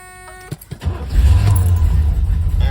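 A 1971 Buick Riviera engine cranks and fires up, then settles into a loud, rough, uneven idle from a badly missing engine, heard up close.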